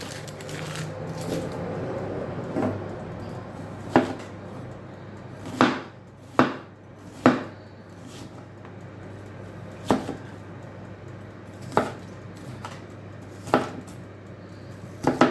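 Knife strikes a cutting board in sparse, irregular chops while onions are cut, each thud distinct and close, with quiet kitchen noise between.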